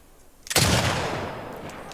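A single loud, close gunshot in The Last of Us Part 2, with a sharp crack followed by a long fading echo.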